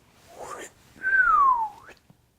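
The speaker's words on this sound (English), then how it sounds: "That was a really good whistle." A clear, sustained whistle gliding downward in pitch then flicking up at the end, preceded by a brief airy breath sound.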